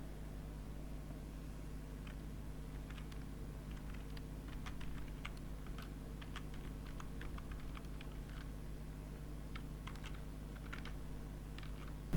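Steady clicking of keys on a computer keyboard while code is typed, quick irregular bursts of keystrokes over a constant low electrical hum and faint fan noise, no voices.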